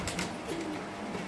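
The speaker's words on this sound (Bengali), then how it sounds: "এখানে আছে আফসান গিজেল কবুতরের বাচ্চা কবুতর" Young Afsan Gizel pigeon squabs cooing softly in a cage at a pigeon sale, low murmuring coos over steady background noise, no talk.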